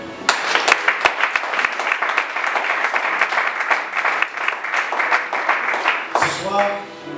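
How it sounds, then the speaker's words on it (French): A church congregation at an Easter service applauds together, a steady wash of many hands clapping that holds loud for several seconds before fading as a voice comes in at the end. "Acclamez-le."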